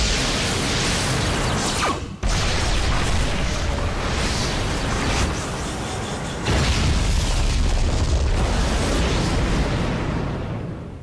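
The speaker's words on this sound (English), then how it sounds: "Explosion." A loud, roaring explosion from the Jujutsu Kaisen Cursed Clash video game, with dense, rumbling blasts that keep going for about eleven seconds and only brief dips. No voices.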